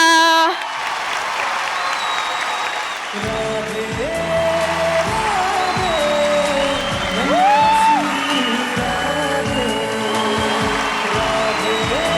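An audience at a televised comedy show applauds and cheers to welcome Agasthya and Inchara onto the stage, loud sustained clapping with whoops over music after an announcer's voice.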